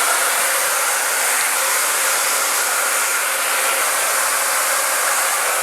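A handheld hair dryer blows steadily on curly twists on type 4 natural hair, a loud, close, unbroken roaring whoosh from start to end, with no talking.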